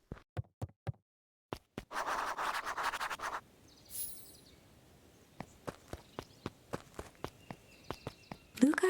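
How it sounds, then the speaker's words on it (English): Footsteps in the video game Beacon Pines, a run of crisp, evenly spaced steps near the listener, broken by a short burst of rustling scuffs and a pause before the steady treading resumes. "Luca heard a group of footsteps approaching."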